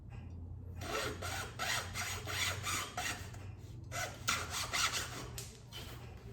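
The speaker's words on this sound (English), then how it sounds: "Now what I'm gonna do is I'm gonna cut this dowel." Sawing through a roughly 3/4-inch wooden dowel by hand, rhythmic raspy back-and-forth strokes, steady and close, with a brief pause midway.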